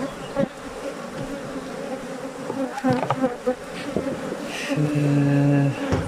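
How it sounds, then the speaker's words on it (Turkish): Honey bees buzzing steadily and densely close by around hives, a continuous swarm-like drone with individual agitated insects passing louder, and a brief tonal hum near the end. "Arı biraz fazla saldırmaya başladı"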